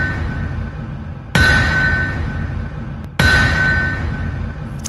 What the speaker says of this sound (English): That is the sound of the anvil.